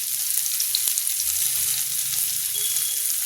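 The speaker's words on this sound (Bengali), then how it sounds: "আরও অল্প একটু তেল দিলাম, আর এই যে একটু পেঁয়াজ কুচি দিয়ে দেবো।" Chopped onion sizzles in hot oil alongside bitter gourd in a home kitchen, a steady bright frying hiss with soft scraping and stirring knocks underneath, close and continuous.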